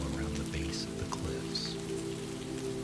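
Steady rain patters on broad tree leaves and dusty ground in misty Meteora, Greece, a continuous soft hiss of drops under a calm narrating voice.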